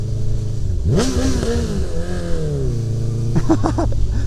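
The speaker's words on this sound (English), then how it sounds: "The soundtrack obviously helps with this Akropovich full system." A Honda CB1000R motorcycle with an Akrapovic full exhaust system, heard up close as its engine rises and falls through revs, ending in a quick series of blips and gear changes.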